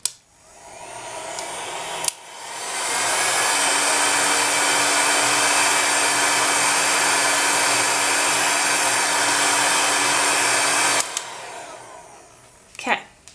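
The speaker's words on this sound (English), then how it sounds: "Now I'm using a rather large heat gun over here." A loud, steady blower-like roar from a large heat gun used on polymer clay runs for about nine seconds, with brief clicks and handling noise before it starts and after it stops.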